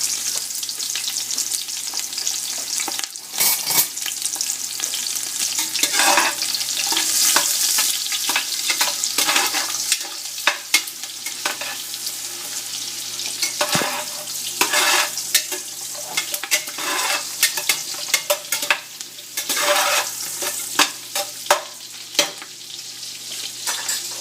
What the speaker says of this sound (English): 2 onions chopped, and saute it for about 4-5 minutes